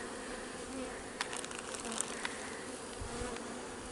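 Steady, close buzzing of many honey bees, a continuous droning hum with a few brief sharper buzzes as individual bees pass near.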